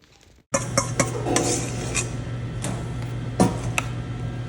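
Sausage being stirred into a white gravy in a pan, a utensil scraping and knocking against the metal in irregular strokes over a low steady hum, close and clear, starting abruptly after a brief near-silence.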